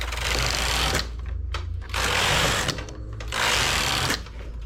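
Knitting machine carriage sliding across the needle bed in three sustained mechanical runs, close and loud, with brief pauses between passes.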